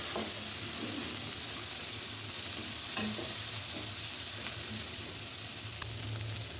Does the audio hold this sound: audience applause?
no